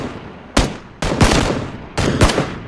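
Bursts of video-game gunfire during a vehicle fight near a bridge, three loud sharp volleys of rapid shots spread over a few seconds, close and without talk.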